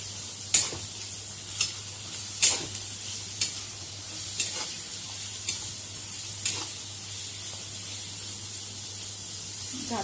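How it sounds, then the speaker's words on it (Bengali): Chopped onion fries in hot oil, a constant close sizzle broken by sharp scraping strokes as a spatula stirs it at irregular intervals. "এই দুটো গরম হলে এরপর এই কুচনো পেঁয়াজটা দিয়ে দেবো।"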